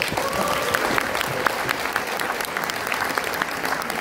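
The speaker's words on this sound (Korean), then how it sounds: "여기서 박수가 한번 나와줘야 되는데" Lecture audience applauding a talk on tariff policy and blockchain, steady crowd clapping that fills the whole stretch at an even level, with faint murmurs.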